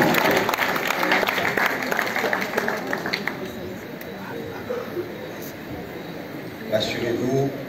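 A crowd applauds to welcome the mayor at a town's patronal festival, clapping loud at first and then thinning into a diffuse murmur of voices and scattered claps, with a brief swell near the end.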